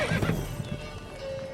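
Horse in The Witcher 3 video game lets out a loud, close neigh with hoof clip-clop beneath it, all in one short burst.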